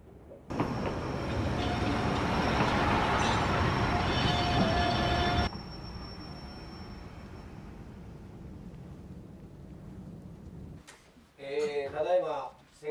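A train rumbles loudly along the tracks for several seconds, then its noise drops to a steady lower hum as it halts in snow, with a brief burst of other sound at the end.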